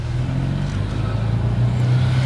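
A car engine during a kids' driving course, a steady mid-range hum that rises slightly as it accelerates, close and continuous without speech.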